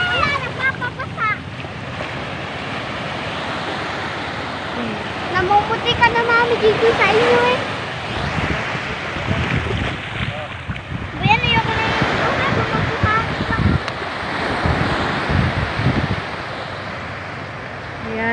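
Big brownish sea waves surge and crash in bad weather along the Bataan coast, with gusty wind buffeting the microphone, while a person talks over the roaring surf.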